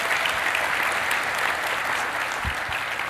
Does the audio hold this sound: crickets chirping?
no